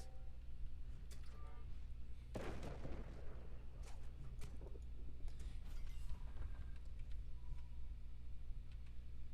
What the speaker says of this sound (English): do 2 more cannons and kill a few more people